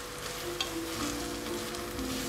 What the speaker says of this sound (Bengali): এখন মশলাটাকে আমি সুন্দরভাবে কষিয়ে নিব।